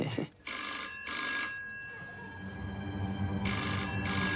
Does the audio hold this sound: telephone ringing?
yes